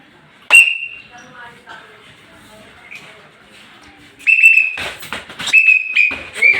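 A referee's whistle at a sparring practice gives one sharp, piercing blast early on, then several short, quick whistle bursts near the end amid louder movement and people talking.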